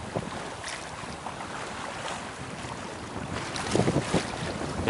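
Wind rushes steadily across a sailboat's microphone on the Øresund off the Rungsted coast, a constant broadband roar blowing at about 5–6 metres per second, with no talk.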